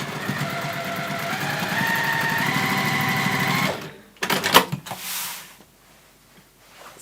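Sewing machine stitching across fabric pieces, a fast steady mechanical whir for a few seconds that stops, followed by a couple of clacks and handling noises.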